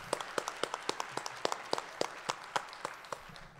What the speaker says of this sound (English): Let's give the mayor a round of applause for that.